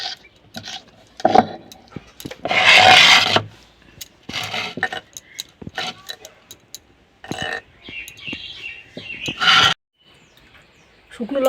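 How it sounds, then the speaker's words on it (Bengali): Dried red and fresh green chillies crushed on a grinding stone, giving repeated rough grating strokes in bursts with short pauses, close and fairly loud. "শুকনো লঙ্কা আর কাঁচা লঙ্কা বেটে নেবে।"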